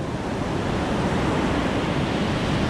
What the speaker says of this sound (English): I can see the waves